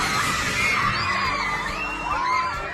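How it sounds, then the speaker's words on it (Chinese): Children scream and shout in a loud, dense crowd at a school as a canopy collapses during a magnitude 7.8 earthquake in the Philippines; piercing cries rise and fall over a constant roar. "几秒内身后的大棚轰然倒塌，吓得小朋友们疯狂尖叫逃窜"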